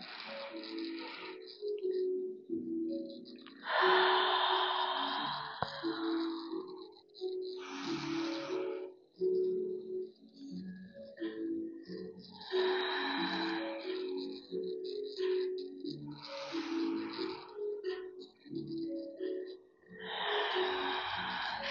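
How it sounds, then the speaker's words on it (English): Slow, deep breaths during a relaxing Pilates session, with several long inhales and exhales heard close and clear in a quiet room, separated by soft pauses. "3 deep breaths."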